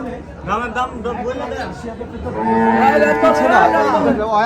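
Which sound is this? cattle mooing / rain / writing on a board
cattle mooing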